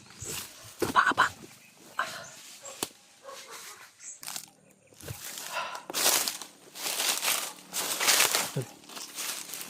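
A dog barks and growls in short bursts over crinkling and rustling, with scattered loud close thumps, soft hissing calls between, and an echoing, cluttered mix near the microphone.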